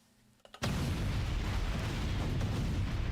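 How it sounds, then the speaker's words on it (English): Flashbang blasts in the video game Blue Archive hit abruptly after a few quiet clicks, then a loud, sustained roaring burst of explosive noise fills the rest of the moment without letting up. "Flashbangs!"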